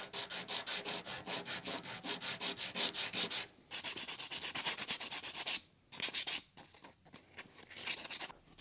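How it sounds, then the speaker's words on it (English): Hand sanding of cast resin sculpture pieces, a close, rhythmic scratchy rasp in quick back-and-forth strokes, broken by short pauses and a few irregular final passes. "I think we have these pretty well sanded up on this guy"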